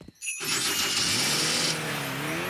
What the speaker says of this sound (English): A bit of magic always helps start the fairy car.